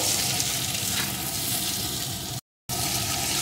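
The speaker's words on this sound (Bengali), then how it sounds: "লবণ হলুদটা দিয়েও গাটি কচুটা আমি একটু ভেজে নিলাম" Giant taro pieces frying with salt and turmeric in a pan, a loud continuous close sizzle broken by a short silent gap near the end.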